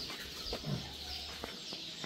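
Native country chickens cluck softly in a poultry shed, a few scattered low clucks over a steady background hum, faint and somewhat distant with no talk.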